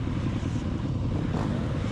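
A small Triumph 250 motorcycle engine runs steadily while riding, a dense continuous low drone with rumbling body and wind noise, close and fairly loud throughout without pauses or speech.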